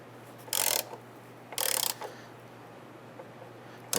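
Two quick bursts of ratchet clicking, each about a third of a second, with a third starting at the end, as a fastener is snugged down on a liftgate anti-rattle kit on a 1995-2001 Ford Explorer, over a steady low hum.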